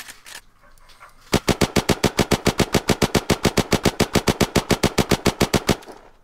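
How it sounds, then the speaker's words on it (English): Rapid automatic gunfire in the video game Unturned, a loud, evenly spaced burst of about thirty shots after a quieter lead-in, ending abruptly. "that's 33 shots"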